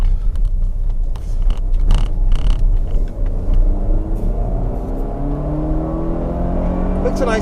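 A 2019 Volvo XC60 R-Design's engine revs under acceleration from inside the cabin, a low droning rumble whose pitch climbs steadily as the car pulls, with a voice talking over it at the start.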